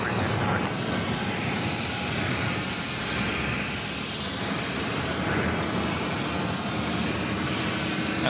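Frontier Airbus A320neo in red fox livery takes off from JFK, a steady, loud broadband jet roar sustained throughout, with faint voices underneath.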